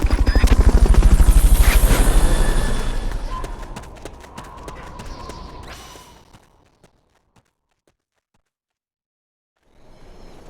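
A helicopter in the Metal Gear Solid Peace Walker video game thuds with loud, rapid rotor beats that fade over several seconds into near silence.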